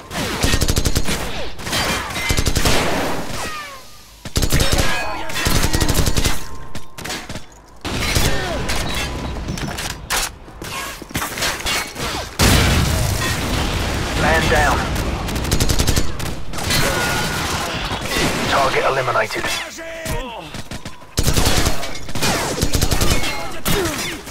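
Gunfire in the video game Call of Duty, repeated loud bursts of automatic and single shots with booms and mechanical clatter, broken by brief pauses and overlaid with occasional voices.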